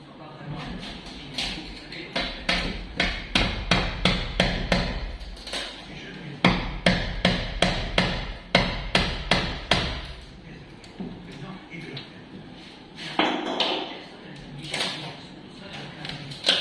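Hammer tapping on a homemade carbon fibre bonnet for a Renault Megane 3, sharp knocks landing in quick irregular bursts, close and loud, with pauses between runs.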